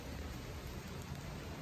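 Light drizzle falling over a home garden of fruiting plants, a steady, soft broadband hiss of rain throughout with no voices.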